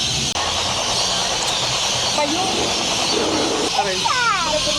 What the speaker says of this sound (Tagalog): sobrang lakas ng ibon. Can you hear it? That's the birds, guys.